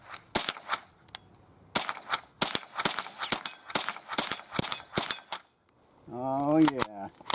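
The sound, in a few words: 22 rifle shots, Ruger or Marlin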